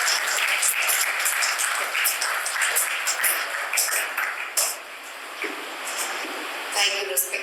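A seminar audience applauds steadily and fairly close for about seven seconds, the dense clapping dipping briefly midway before rising again.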